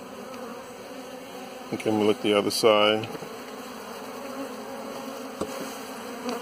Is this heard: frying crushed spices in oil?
no